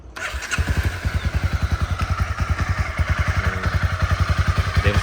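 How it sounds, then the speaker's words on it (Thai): A 2018 Honda CB300R motorcycle engine starts up and settles into a steady, loud idle with rapid, rhythmic low thumping, close by and alone. "มาสตาร์ทฟังเสียงเครื่องยนต์กันเลยนะครับ"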